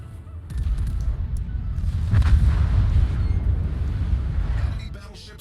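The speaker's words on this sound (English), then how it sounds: "I love looking at the secondaries as they fire off and stuff" Deep booming gunfire from a warship's secondary batteries in World of Warships, a sustained rumbling volley that swells and fades over several seconds, with a voice talking over it.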